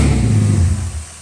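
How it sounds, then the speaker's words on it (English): A 1995 EF Ford Falcon 4.0L inline-six with a turbo conversion being cranked over on the starter, a loud, close, low churning drone that slowly fades toward the end of a brief burst. "So I'll just give it a few cranks and just check to see that we got oil."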